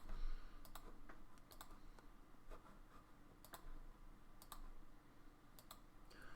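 A command is typed on a computer keyboard during CAD drawing work, heard as faint, quick clusters of key clicks in an irregular rhythm over a quiet background, with no talk.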